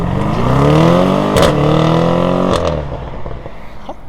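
BMW M850i engine driving at high speed, a loud, sustained roar with a rising then falling pitch and a couple of brief sharp transients, a voice briefly heard.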